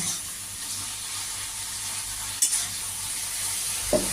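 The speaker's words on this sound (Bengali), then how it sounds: "চিংড়ি মাছ আমি এই সামান্য তেলে নেড়ে চেড়ে আমি উঠিয়ে রাখছি" Prawns are lightly fried and stirred in a little hot oil, giving a constant moderate sizzle close up, broken by a couple of brief utensil knocks against the pan.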